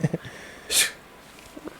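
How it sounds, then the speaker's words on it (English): A single short, hissy sneeze bursts out mid-clip, briefly loud, with faint murmurs before and after. "It's a sneeze."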